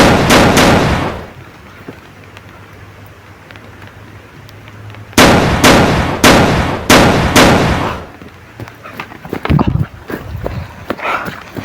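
Bursts of gunfire: a rapid volley of loud, sharp shots, a pause, then another quick string of four or five close shots with scattered pops after.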